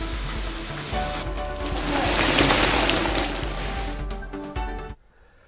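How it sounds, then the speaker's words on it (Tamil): Heavy cyclone rain from Cyclone Asani pours steadily along the Andhra Pradesh and Odisha coast, a loud, dense hiss of downpour that swells in the middle and cuts off abruptly near the end. "ஆந்திரா மற்றும் ஒடிசா மாநில கடற்கரையோர பகுதிகளில் பலத்த மழை பெய்து வருகிறது"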